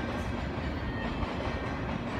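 A train painted in Hiroshima Carp baseball livery, with the team logo and players on its sides, rolls past at close range with a steady, dense rumble and wheel noise, no voices.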